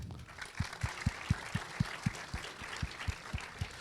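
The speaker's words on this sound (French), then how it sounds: "On peut l'applaudir." Audience applause at a live quiz show in a Lorient cinema: a steady mid-level clatter of clapping beneath a regular low thumping pulse of music beats, with no voices.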